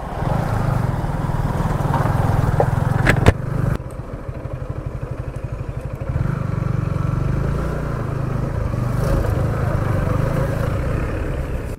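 A motorcycle rides toward Tansen in Palpa. Its engine hums and putters steadily, dips briefly with a knock and a rattle, then settles back into a continuous drone as the ride goes on.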